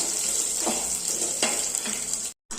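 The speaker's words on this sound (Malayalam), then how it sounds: "എടുത്ത് വെച്ചിരിക്കുന്ന തേങ്ങായും കൂടെ ഒന്ന് ഇട്ട് കൊടുക്കാം അത് നമുക്കൊന്ന് വറുത്തെടുക്കാം" Grated coconut frying in hot oil in a pan while cooking a papaya curry, a steady bright sizzle with a few soft stirring scrapes, close and fairly loud before a brief dropout at the end.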